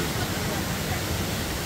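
A waterfall in Nainital, with very cold water, pours as a steady, loud rushing hiss close by, filling the whole moment without pause.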